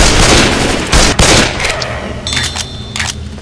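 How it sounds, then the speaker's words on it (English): Video game gunfire, loud dense bursts of rapid shots with booming impacts and ringing metallic tones, close and continuous. "Are you following me and shooting over my head?"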